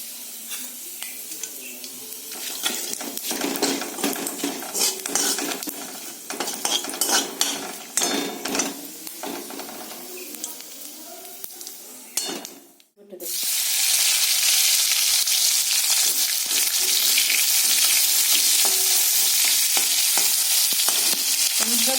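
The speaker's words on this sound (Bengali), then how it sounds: "লবঙ্গ দু টুকরো এলাচ আর এক টুকরো দারচিনি এটা আমি তেলের উপরে ফোড়ন দিয়ে দেবো" Cloves, cardamom and a piece of cinnamon hit hot oil with a loud, bright sizzle after a stretch of clinking pans and stirring, then frying hisses on steadily without talk.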